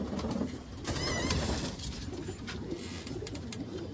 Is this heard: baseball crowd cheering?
no